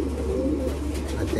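A racing pigeon coos in a loft, a short low throaty burble close by, with faint background noise.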